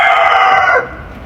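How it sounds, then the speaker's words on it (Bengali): A rooster crows loudly and close by, one long call that breaks off partway through, followed by quieter fowl clucking in the background. "এই যে আমার মোরগরাও চলে আসছে"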